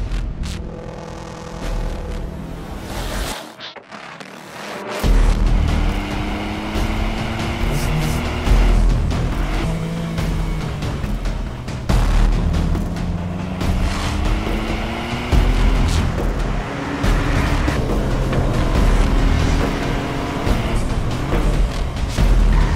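A new Ford Fiesta ST accelerates hard up the winding Via Campocatino mountain road in Italy, engine loud and close, revving up through the gears with rising pitch sweeps and brief lifts between shifts.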